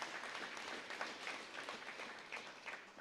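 Audience applause for the speakers at a beam-signing event for the LBNF/DUNE project, a steady wash of clapping lasting a few seconds at moderate distance, with no voices over it.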